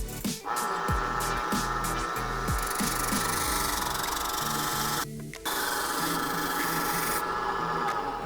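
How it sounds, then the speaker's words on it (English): A wooden lathe runs in a design school wood workshop with continuous scraping and rubbing as a tool cuts the spinning wood. The cutting is rhythmic and uneven, with brief breaks near the start and middle. "you have this wooden lathe, which I think you use for carvings and stuff"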